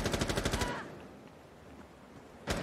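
Rapid automatic gunfire from a Rainbow Six Siege esports match, a fast burst of about ten shots followed by a quiet lull, then another sharp burst at the very end.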